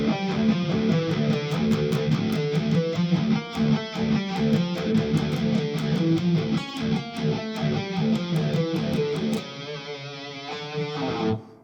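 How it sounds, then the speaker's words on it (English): Distorted electric guitar in drop D runs a D harmonic minor scale against a repeated low pedal tone, a dense, driving stream of picked notes that ends in a brief sustained ringing chord. "So this sounds like this with the pedal tone."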